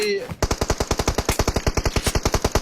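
Rapid bursts of automatic gunfire in PUBG Mobile, a fast even rattle of shots close and loud throughout.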